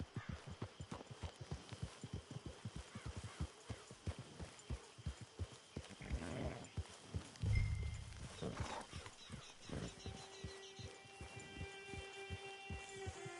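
Horse hooves clip-clop steadily at a walking pace in Red Dead Redemption 2, close and rhythmic throughout, with a brief whinny partway through and faint game ambience behind.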